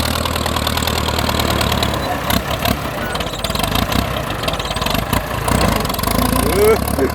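An old grandpa-era Ford tractor engine runs at a loud, steady, rough idle with a knocking rumble, working in 41-degree heat, while a person talks over it.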